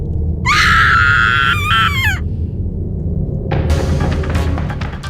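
A female game character in a horror setting lets out a loud, high-pitched scream lasting about two seconds, followed by a brief burst of scuffling noise over a steady low background rumble.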